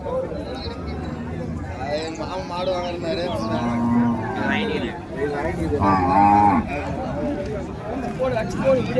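A Western breed heifer lowing at a busy open cattle market, loud drawn-out moos over constant crowd chatter and babble, with a second bellow rising near the end.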